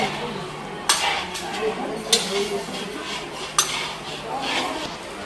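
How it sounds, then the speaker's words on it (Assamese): Semolina dry-roasting in a pan for laddoos in a home kitchen, with metal spoon clinks and scrapes against the pan at spaced intervals, people talking nearby. "এইফালে চুজি ভাজি আছে লাৰুৰ কাৰণে"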